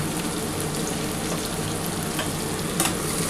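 Onion, tomato and green chili fry in a pan with turmeric, salt and chili powder, giving a loud, dense, continuous sizzle with faint stirring and one brief clatter near the end.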